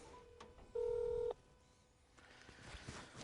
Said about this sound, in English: Gotta make a phone call, y'all.